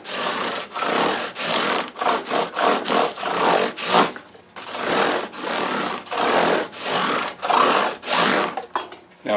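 Repeated strokes of 400-grit sandpaper rubbed along a metal Telecaster guitar part, smoothing away mill-file scratches; about a dozen close, loud rasping passes in a steady back-and-forth rhythm with brief gaps, no talking.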